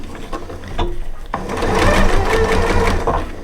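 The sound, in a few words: sewing machine sewing a fabric gift bag tube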